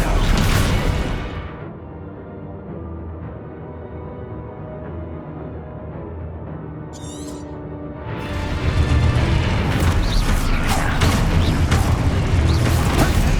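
Spell blasts and explosions in the Hogwarts Legacy video game: a loud burst opens, then a quieter humming stretch with a brief shimmering zap, before a heavy, sustained barrage of crashing blasts and rumble returns.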